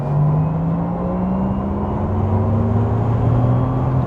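A 2025 Porsche Taycan 4S Cross Tourismo electric car accelerates hard with a loud, steady, rising electric motor whine and road roar throughout, with no talking.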